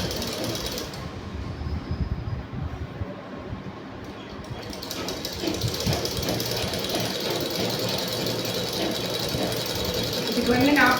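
A sewing machine stitches the hem of a lungi with a steady, loud mechanical chatter that runs throughout, while a person talks over it.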